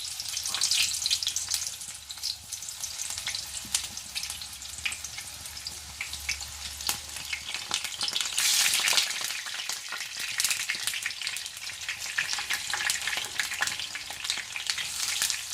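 Eggplant pieces frying in hot oil in a pan give a steady, dense, close sizzle and crackle that runs throughout with no voices.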